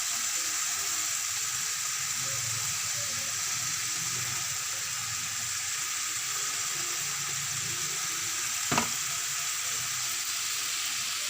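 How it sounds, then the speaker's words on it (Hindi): Chicken tikka pieces with masala sizzle steadily in a pan, a continuous close frying hiss that stays level throughout, with one brief clink partway through and no talking. "हमने ये सारा चिकन पलट दिया। अब हम जो बचा हुआ मसाला है वो सारा इसमें डाल देंगे।"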